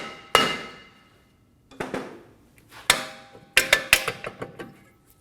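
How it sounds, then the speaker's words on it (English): Soft face hammer striking the side of a brake rotor on a 2014-2018 Subaru Forester rear hub, five or six sharp metallic taps in irregular clusters, close and ringing, with no talk. "Using a soft face hammer, I'm going to tap on the side of the rotor and remove it"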